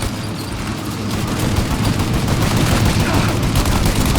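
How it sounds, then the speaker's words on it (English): Shootout in Mafia Definitive Edition, a dense continuous fusillade of rapid gunshots and automatic fire, loud and close, building slightly in intensity with no pauses. "Shoot out your gun when there's a break in the fire!"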